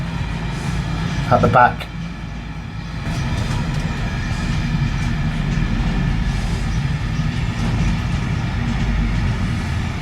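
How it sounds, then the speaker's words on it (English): A train passes close to an allotment, a steady low rumble and rolling clatter that builds and carries on for several seconds. A brief sharper rattle comes near the start, and a voice speaks over it. "Here comes the train. First train today."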